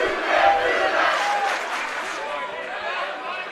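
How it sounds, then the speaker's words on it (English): Spectators at a varsity high school basketball game, Trinity Episcopal at St. Christopher's in 2026, cheer and applaud in a dense, steady wash of crowd noise that swells early and then slowly fades. "And the crowd is loving it."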